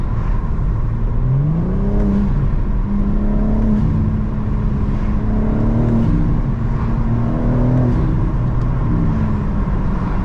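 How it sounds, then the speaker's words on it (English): A BMW G82/G80 M4/M3 engine drones loudly and steadily from inside the cabin, intake sound prominent, its pitch rising and falling gently as the car accelerates and eases off. "See if we can hear the intake through the GoPro."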